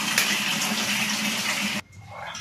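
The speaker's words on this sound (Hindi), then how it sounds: "तो दिखा रहा हूँ, ये रहा ठंडी ठंडी पानी" Cold water for bathing in a hilly area runs loudly and steadily from a tap, cuts off abruptly, then resumes more softly, with no speech.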